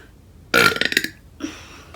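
A pregnant woman troubled by reflux and gas lets out one loud, close, gurgling burp that lasts about half a second, followed by a softer trailing sound.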